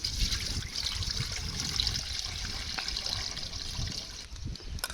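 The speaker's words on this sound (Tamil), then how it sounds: "தண்ணி ஊற்றிக்கலாம்." Water runs steadily into a cooking pot as gooseberry pickle is started, a continuous close trickling and splashing with no talk.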